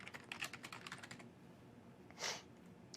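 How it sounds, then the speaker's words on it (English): Credentials are typed on a computer keyboard, with a quick, faint run of close key clicks followed by a pause and one louder keystroke, with no voices. "Type in my credentials"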